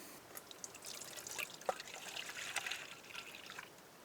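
Milk poured into a mixing bowl at a campsite, a faint soft trickle with a few small splashes over a quiet outdoor background.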